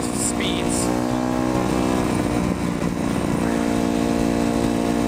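Street-legal Yamaha WR250F dirt bike engine running, a loud, steady droning rumble with shifting tone throughout, close and continuous, and a voice talking over it.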